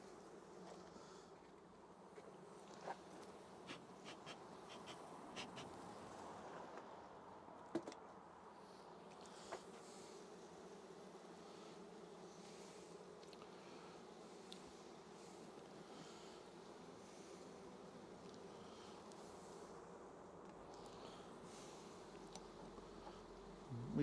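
A large swarm of honey bees buzzes inside a hive in a steady, dense drone, faint but continuous throughout, with a few light knocks and no voices.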